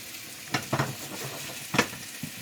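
Bubble and squeak sizzles in oil in a frying pan, with a few short bursts of stirring and scraping over a soft frying hiss.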